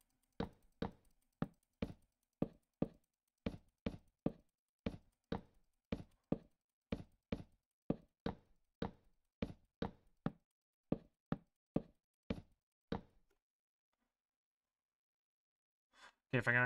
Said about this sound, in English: Would you quit with the stupid door sounds?